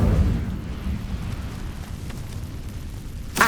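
The Incendio fire spell in Hogwarts Legacy erupts with a low rumbling whoosh that fades into a crackling burn, ending with a sharp bright burst.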